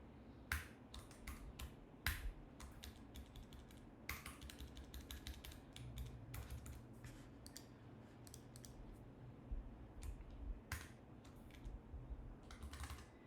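Fast, irregular typing on a computer keyboard, dense clusters of sharp key clicks with short pauses, close and fairly loud with no talking.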